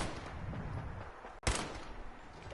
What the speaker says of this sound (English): that is such a terrible sniper rifle